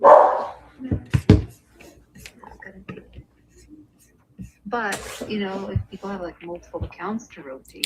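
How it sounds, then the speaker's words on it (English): A dog barks in the background, a loud burst at the start and a few sharp yelps soon after, while people keep talking. "Yeah, that was my dog in the background."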